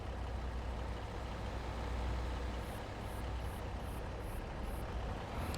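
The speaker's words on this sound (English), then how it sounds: "let's wait for the school bus." A school bus engine idles nearby on a farm in North Carolina, a steady low diesel rumble that holds even and continuous throughout, with faint high ticking near the end and no talk.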